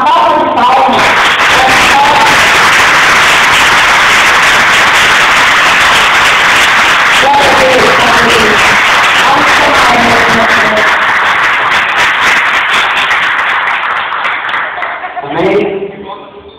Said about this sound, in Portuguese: E aqui a igreja dá uma salva de palmas